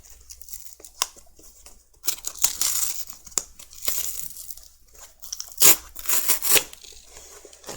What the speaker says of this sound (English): Probably should have cut it open a little bit better, but I'm getting it.